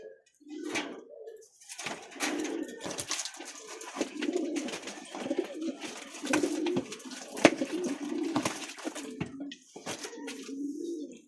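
Imported Taiwanese racing pigeons coo repeatedly close by, giving low throaty rolling calls over faint wing flutters and handling noises.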